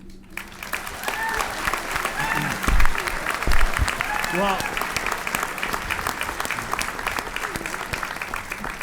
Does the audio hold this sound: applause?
yes